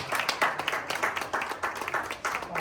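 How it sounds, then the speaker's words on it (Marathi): An audience at a retirement event claps together, a steady patter of many hands held at an even, moderate level for a few seconds. "यांच्यासाठी अगदी जोरदार टाळ्या व्हायला पाहिजे"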